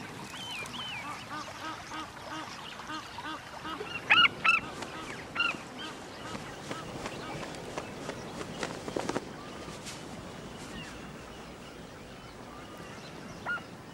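Egyptian geese at a waterside, several loud nasal honks in a short burst near the middle over a steady outdoor background, then sparse calls fading away.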